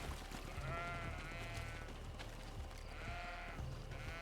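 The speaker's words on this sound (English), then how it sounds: "I just killed a sheep for no reason." Repeated sheep bleats in the video game Greedfall, a few drawn-out wavering calls over a low steady background hum, fairly quiet and with no talking.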